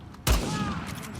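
A single sudden gunshot from the Uncharted 4 video game cracks out with a deep thump, then trails into a lingering rumbling tail that fades slowly without dying away.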